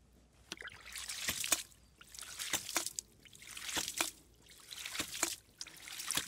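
Water from a home-made ram pump trickles and splashes in uneven surges, pulsing every second or so at close range, with no talking.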